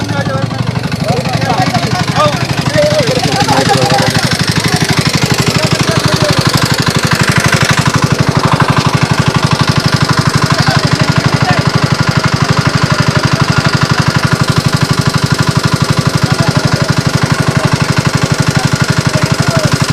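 A homemade water irrigation pump machine, started once by battery and running without fuel or mains power, chugs loudly and continuously with a steady, rapid knocking rhythm close by throughout.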